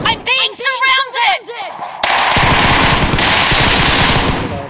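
Gunfire in the battle-royale game PUBG breaks out after a stretch of talk, a loud, sustained crackle of shots that stays dense and continuous to the end.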